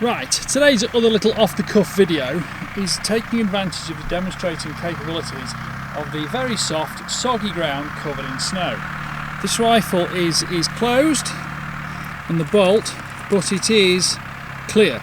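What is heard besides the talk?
farm tractor engine running in the background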